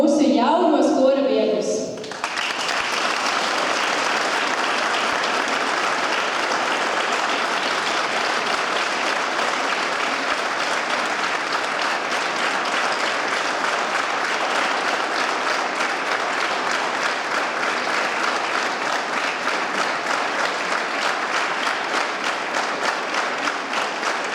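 An audience at a youth choir's anniversary concert breaks into long, steady applause welcoming new members, dense clapping filling the hall for over twenty seconds after a brief spoken announcement.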